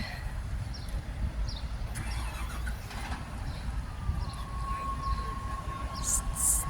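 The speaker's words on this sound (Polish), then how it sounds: "Przy samym jeziorze jest dworzec kolejowy." A train at Brienz railway station beside the lake, a low steady rumble with faint squeals and a thin drawn-out tone near the end, heard from a distance outdoors.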